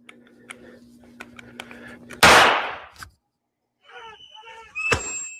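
A single sharp gunshot from a Sig Sauer P320 in replayed bodycam footage cracks out loudly and alone, followed by a quieter stretch of muffled voices and a second sharp bang near the end.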